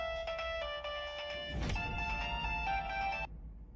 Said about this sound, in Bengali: ফোন তুলছে না? রিং হচ্ছে।